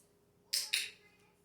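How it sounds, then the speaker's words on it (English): A dog-training clicker gives two sharp, quick clicks close by in a quiet room, the pair about a fifth of a second apart. "I'm making the clicking sound"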